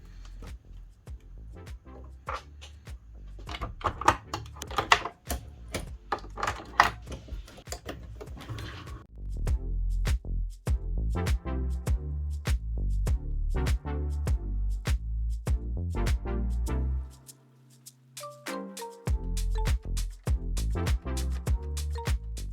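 A cutting machine slicing an EasySubli sheet on its mat, with rapid clicking and ticking of the moving blade carriage, bursts of faster ticks, a short motor whir and a brief pause near the end, close by.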